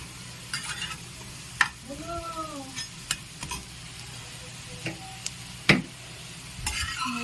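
Poppy seed fritters (posto bora) fry in oil with a soft, steady sizzle, broken by sharp clicks and clatters of a spatula lifting them out, fairly quiet and close.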